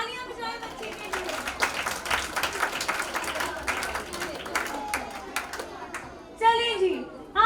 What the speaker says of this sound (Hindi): तालियां बजाएं बच्चे के लिए।